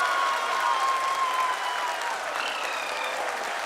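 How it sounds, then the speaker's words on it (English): Applause at the ISRO mission control centre during the Chandrayaan-3 moon landing, a dense, sustained clapping from a large crowd that fades slightly toward the end, with faint voices and a tone in the background. "People are applauding."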